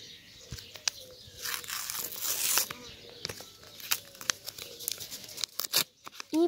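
Paper surprise packets being torn open and handled, with repeated crinkling, tearing and rustling bursts close by at an uneven pace and quiet gaps between them.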